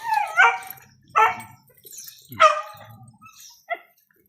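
A dog barks several times in short, irregular bursts nearby, with a final small yip; no talking.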